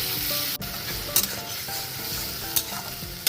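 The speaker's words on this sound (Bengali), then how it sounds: "মশলাটা ভাজা চলছে" Spices sizzle loudly and continuously in a hot pan with small prawn pieces, with a few sharp scrapes from stirring.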